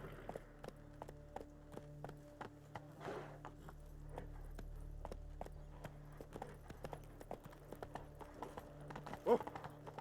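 Hooves of the horse Roach in The Witcher 3 clip-clop in a quick, regular galloping rhythm, close and crisp, over a faint low ambient bed with a brief jangle near the end.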